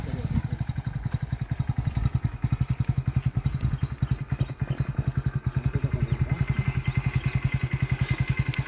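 A motorcycle engine idles close by with a steady, rapid thumping pulse throughout, loud and even, with voices talking faintly alongside.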